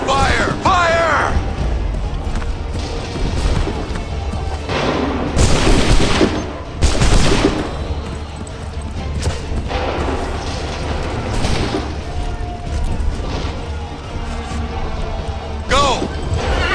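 Musket volleys crack across an Assassin's Creed III battlefield, several loud broadband bursts and booms spread over the stretch, layered with dense battle noise and shouted commands.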